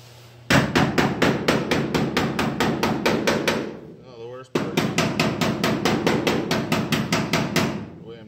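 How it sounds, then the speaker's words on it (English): Metal hammers strike steadily to pin down a pop-up gas door on a 1970 car, two fast, even bursts of close, loud blows separated by a brief pause. "I'll get some hammers and kind of just pin that down a little bit more"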